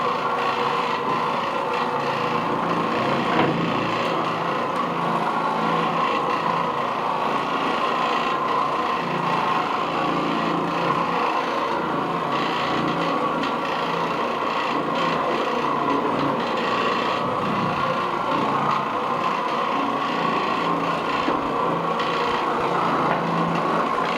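An Oreck Orbiter orbital carpet cleaner with a damp bonnet works over pre-sprayed bedroom carpet, giving a steady, unbroken whirring and scrubbing drone at moderate volume with no voices.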